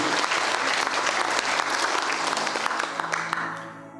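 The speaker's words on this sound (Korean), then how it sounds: "우리 하나님께 뜨거운 감사와 영광의 박수 한번 올려드리겠습니다." Congregation at a Sunday church service applauding, a loud sustained wash of many hands clapping that tapers off toward the end.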